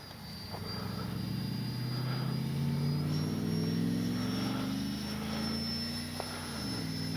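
An E-flite 64mm Viper RC jet flies overhead, its ducted fan giving a steady whining drone that slowly swells and fades as the pitch shifts.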